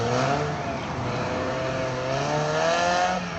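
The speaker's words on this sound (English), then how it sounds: "Mark 1 Mazda MX-5 with pop-ups" A Mark 1 Mazda MX-5 with pop-up headlights pulls away, a steady engine note climbing gently as it departs, close and fairly loud throughout.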